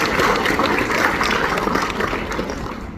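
An audience claps at a school award ceremony honouring students for their NEET and JEE results. The applause is dense, loud and continuous, a steady wash of many hands for the whole stretch with no talk over it.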